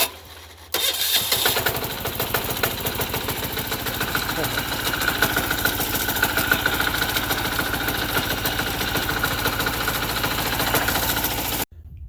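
A Sears Suburban lawn tractor fitted with a 6 HP diesel engine cold-starts and settles into a loud, steady, knocking idle close by; it runs continuously for about eleven seconds and then cuts off abruptly.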